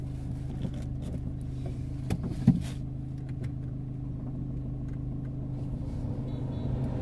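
A Ford Aspire TDCi diesel car drives along with a low, steady engine hum and road rumble heard from inside, with a few faint knocks and clicks.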